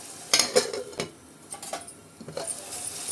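Onions with turmeric and salt being stirred in a pan, a spoon scraping and clinking against the metal in several irregular strokes, close and fairly quiet with a faint sizzle between.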